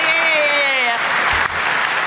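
Audience applause at a Chaos Communication Congress annual review talk, a steady, fairly subdued patter of clapping that continues throughout, with a voice speaking over its start.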